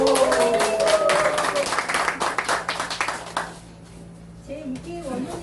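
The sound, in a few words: audience applause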